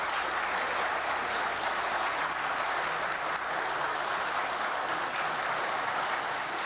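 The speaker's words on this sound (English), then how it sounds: "You should give yourselves a round of applause." Audience applause at a city council meeting, a steady, even wash of clapping from a room full of people, sustained at constant loudness throughout.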